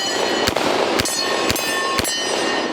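Revolver loaded with 10mm/.40 rounds held in a moon clip, firing four sharp, evenly spaced shots about half a second apart over steady background noise.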